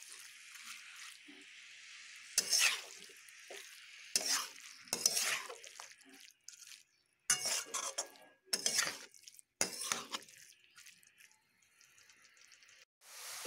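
Giant taro stems with turmeric fry in a pan and are stirred, giving a faint steady sizzle broken by several sharp scraping and clattering spatula strokes at irregular intervals, with no speech.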